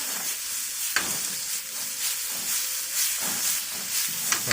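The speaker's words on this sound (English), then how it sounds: "You have to keep it moving around so that garlic doesn't burn." Garlic sizzling in a pan beside a ribeye steak, with a steady loud frying hiss and intermittent stirring scrapes and taps, no talk.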